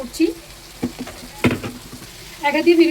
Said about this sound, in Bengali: দেখো এখানে বাঁধাকপি আমি ঝিরিঝিরি করে কেটে রেখেছিলাম সেটা আমি দিয়ে দিচ্ছি এর ভেতর